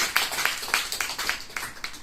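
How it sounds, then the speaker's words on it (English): Scattered audience clapping for a speaker at a meeting, heard as a sparse, fairly regular run of distinct claps from a few hands, faint and somewhat distant. "why don't we give Dmitri a round of applause?"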